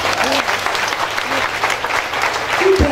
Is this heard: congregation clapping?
yes